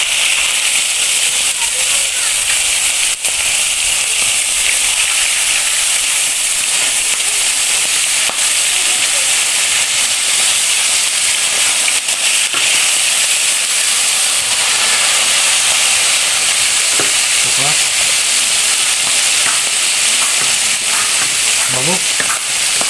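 Fish fries in hot oil, a dense, loud, continuous hiss and sizzle with occasional spitting pops near the end.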